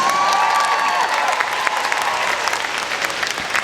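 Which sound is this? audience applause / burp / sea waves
audience applause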